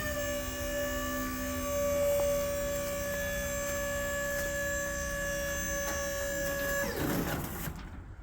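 A hydraulic pump on a dump bed insert runs on transmission fluid with a steady, fairly quiet mechanical hum and whine that holds evenly, then cuts off shortly before the end.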